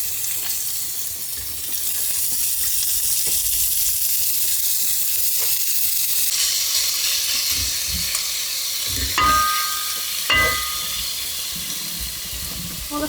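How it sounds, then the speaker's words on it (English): Steak fries in a pan at a campsite, a loud steady hiss and sizzle throughout, with a few dull knocks and scrapes as the meat is turned over near the end. "I still would like to fry off the steak a little bit more, so I'm just turning it over at the moment"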